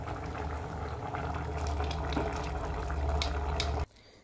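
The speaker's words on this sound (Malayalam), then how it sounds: "ഞാൻ നാളികേരം മുഴുവൻ ഇട്ട് ആ മിക്സി ജാറ് കഴുകി കുറച്ച് വെള്ളം കൂടിയും ഒഴിച്ച് കൊടുക്കുകയാണ്." Water poured into a simmering coconut curry from a rinsed mixer jar, a steady liquid rush and bubbling that carries on evenly for nearly four seconds and then cuts off abruptly, with no talk.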